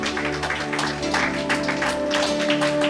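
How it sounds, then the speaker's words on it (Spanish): Congregation clapping during a Spanish-language church service on fasting, dense steady applause throughout, with sustained organ or keyboard tones underneath. "Si usted puede, darle una ofrenda de palmas al Señor."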